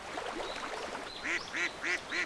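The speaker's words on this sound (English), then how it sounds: "Look at the baby ducks." Baby ducks quack on calm water, four short nasal quacks in an even rhythm near the end, close and clear after a quieter stretch.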